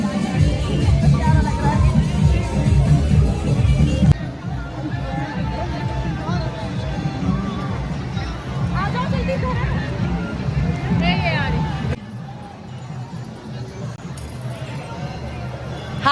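A dense hubbub from a busy crowd gathered for a Mohan Baba devotional event, with many overlapping voices and nearby chatter running throughout, and one abrupt drop in level partway through.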